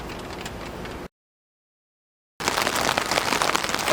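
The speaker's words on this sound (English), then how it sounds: "Here we are now at 91 days of rain in a row and yet another day of rain." Steady rain hiss, loud and close, fills the start, then breaks off for about a second of silence and returns denser and louder to the end.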